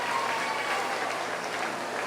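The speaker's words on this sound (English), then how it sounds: "give these 8 individuals out here a big round of applause for doing an excellent job" Spectators at a county 4-H meat goat show give a brief, steady round of applause for the showmen, an even wash of clapping from a nearby crowd.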